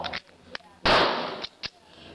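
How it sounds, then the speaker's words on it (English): Several sharp gunshots from other shooters on a public outdoor firing range, one loud near blast followed by decaying echo and a few fainter distant pops around it. "because we're at the public range here, see, here's some of the other gunshots."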